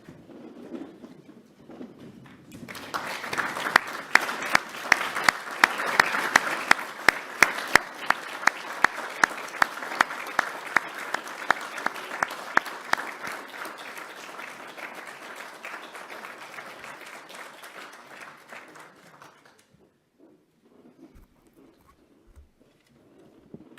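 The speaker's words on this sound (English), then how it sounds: "giving your families and supporters a round of applause" A medical college ceremony audience stands and turns to applaud families and supporters, a sustained burst of clapping from a large crowd. The applause swells quickly, holds for about fifteen seconds, then tapers off into quiet.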